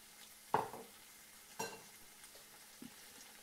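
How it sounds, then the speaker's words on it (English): Razor clam meat with chili flakes dropped into a hot pan, a faint steady sizzle broken by two sharper splashy hits and a softer stir near the end. "I'm just going to cook this clam meat until literally it's just done"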